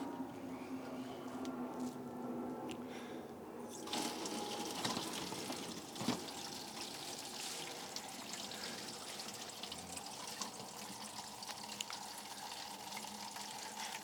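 Water running steadily in a garden plot, a faint continuous splashing hiss as a container is filled, lasting the whole stretch with occasional small knocks.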